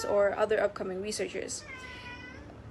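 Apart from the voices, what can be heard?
cat meowing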